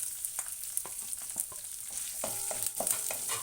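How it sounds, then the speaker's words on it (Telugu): Onions, green chillies, curry leaves and ginger frying in a pan for red wheat rava upma, a steady close sizzle with light stirring scrapes and no talk. "ఉల్లిపాయలు వేగుతున్నాయి కదా"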